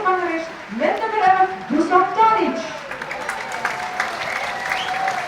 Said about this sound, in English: a nice bit of applause for Dusan Tadic, who comes onto the pitch